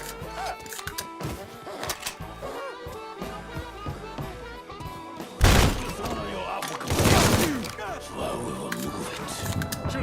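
Gunfire in the Mafia 3 video game, a couple of heavy bursts and thuds breaking through a busy backdrop of game music and shouting voices.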